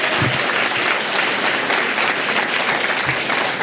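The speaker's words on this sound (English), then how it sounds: "let's give all of our honorees another big round of applause for all they do" A full room applauds honorees at a mayoral diversity and inclusion awards evening, with sustained, even clapping throughout and a couple of low thumps near the start and end.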